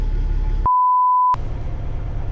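A single steady electronic beep from a truck's electronic logging device, clear and fairly loud, sounds for under a second over a low rumbling truck engine hum.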